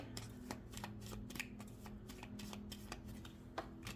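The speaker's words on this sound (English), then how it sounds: "let's just grab a couple other little small cards for you" Tarot cards are handled and shuffled close up, a soft continuous riffle of flicking, slapping card edges in quick irregular bursts, quiet, with no talking.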